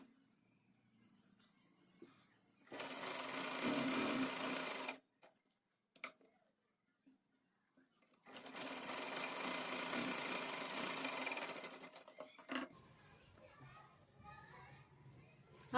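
A sewing machine stitches the neckline of a child's Pathani suit in two loud, steady bursts of several seconds each, separated by a quiet pause with small handling knocks.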